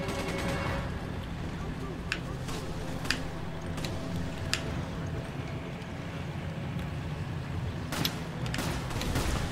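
Scattered gunshots from the video game Resident Evil 5, several sharp isolated cracks spread over a rumbling, busy background of game ambience and explosions, with no talk over them.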